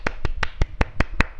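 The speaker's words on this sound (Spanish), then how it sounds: "Aplausos." Eight sharp, evenly spaced claps from a single pair of hands in a video game, quick rhythm, close and crisp, with no other sound.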